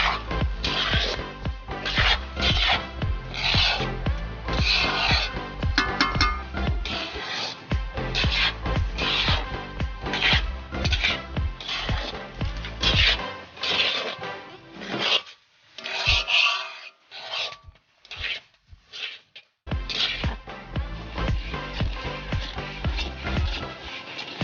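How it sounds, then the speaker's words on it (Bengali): Raw rice grains being stirred in a pan, first with a metal spatula and then a bundle of thin sticks, while roasting to make puffed rice in a rural kitchen. A close, continuous raspy scraping and rustling, briefly broken by short pauses and choppy strokes midway, with no talking. "এতক্ষণ খুন্তি দিয়ে নাড়া হচ্ছিল, এবারে কুচি কাঠি দিয়ে নাড়া হবে।"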